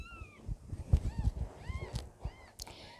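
Newborn Birman kitten of a lilac litter mewing in a few thin, high calls close by, amid handling and rustling noises as it is placed back with its mother.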